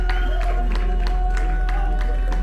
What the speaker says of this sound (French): Applaudissez encore, applaudissez